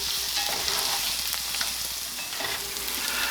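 Onions and garlic fry in a pan while being stirred, giving a continuous, close sizzle with soft scraping strokes and no talking.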